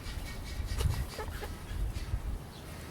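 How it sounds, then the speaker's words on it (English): Free-ranging backyard chickens cluck softly outdoors in a few scattered, fairly faint bursts over a low ambient background. "And we got our little chickies out here too."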